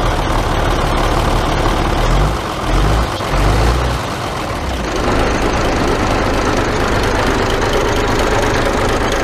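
A MAN D2866 diesel engine idles after a clutch replacement, still cold with slightly low idle, a loud steady low knocking rumble with a brief dip in level early on.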